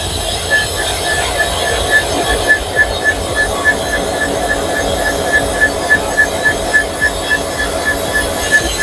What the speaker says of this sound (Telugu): ప్రస్తుతానికి అయితే ఇది ట్యాంపింగ్ ట్రైన్, ఇది మిషన్